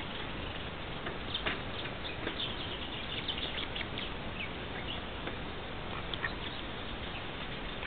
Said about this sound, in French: C'est quoi, un canard, là? Un petit canard.